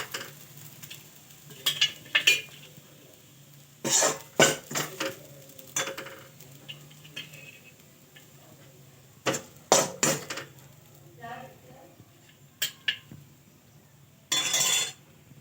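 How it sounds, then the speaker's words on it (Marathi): Cooked poha is scooped from a pan onto a plate, with intermittent metallic scrapes, clinks and taps from a spoon against the cookware, arriving in short separated bursts with quiet gaps between them. "बंद आणि हे पोहे प्लेटमध्ये काढून"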